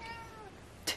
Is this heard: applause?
no